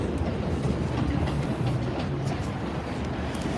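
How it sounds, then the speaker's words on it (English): Steady, loud rumble of a train with a continuous clatter of wheels on rails, heard up close for the whole stretch with no talking. "I'm getting on the train now."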